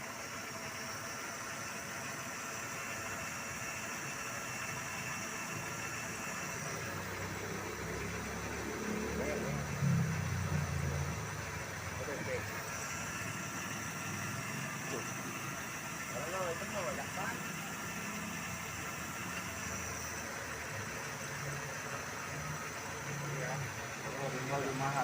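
Mercedes-Benz 300E engine idling, a steady low mechanical hum with faint vibration and a whirring fan, while people talk quietly nearby.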